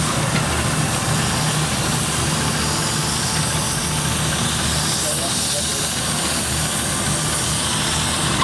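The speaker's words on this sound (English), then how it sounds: "That's heavy road stuff, mate. That's heavy road diesel, that is." A heavy road diesel truck with a Cummins L10 engine runs at a steady drone at a steam fair, loud and continuous with outdoor crowd noise blended in.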